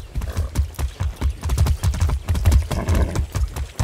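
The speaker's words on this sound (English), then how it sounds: "I haven't ridden a horse since basic training." A horse ridden in the Far Cry 6 video game clip-clops at a brisk, steady gait, its hooves striking in close rhythmic thuds that sound loud and near.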